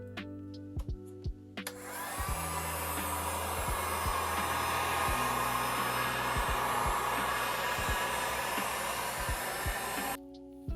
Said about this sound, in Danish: så skal vi derfor bruge enten en hårdtør eller en varmepistol, som vi bruger her